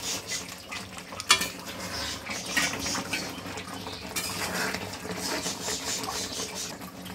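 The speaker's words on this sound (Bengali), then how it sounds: "এবার আমি পনিরের টুকরোগুলো ছেড়ে দেব।" Paneer pieces go into a pan for paneer korma, with soft, low clinks and scraping of utensils against cookware and one sharper knock. The stirring is faint and continuous, and no one speaks.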